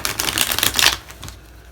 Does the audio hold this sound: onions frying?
no